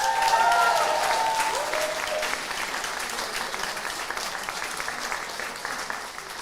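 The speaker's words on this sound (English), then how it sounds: "a big round of applause for Hayley" An audience at a disability and autism leadership awards ceremony claps in a warm, dense burst that starts loud and gradually tapers, with a few faint voices mixed in near the start.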